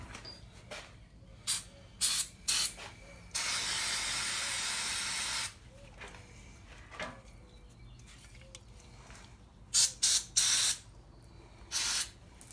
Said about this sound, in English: What you want to do is you want to spray them out real good.